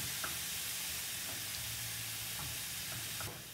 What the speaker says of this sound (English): just add a little bit of butter. And just melt the butter a bit